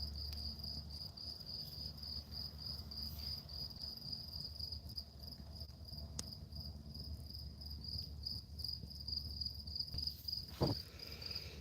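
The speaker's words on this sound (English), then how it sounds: "That ear piercing cicada sound." Cicadas drone in a loud, ear-piercing, continuous high-pitched buzz that holds steady throughout, with a faint low hum underneath and a brief scrape near the end.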